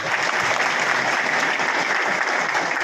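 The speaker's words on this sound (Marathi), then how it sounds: "त्याला टाळ्या बरोबर आहे" Crowd applause at a voters' gathering inside the Vitthal Rukmini temple in Pimpri Bu., a dense, steady wash of many hands clapping at once, loud and sustained throughout with no pauses.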